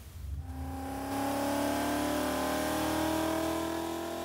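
A supercharged Ford Mustang with an Edelbrock E-Force setup, long tube headers and a 3-inch exhaust runs on a chassis dyno, engine climbing from a low rumble into a loud, sustained rising whine and roar.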